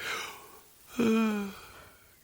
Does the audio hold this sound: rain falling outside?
no